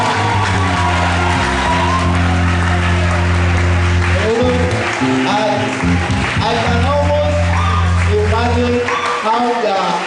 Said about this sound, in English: Please clap again for him, clap for him.